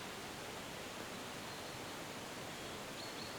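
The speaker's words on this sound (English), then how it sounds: "I hear waterfalls." Waterfall ambience on a golf course in The Golf Club 2019 video game, a steady, dense hiss of rushing water filling the whole clip at a constant low level with no other sounds.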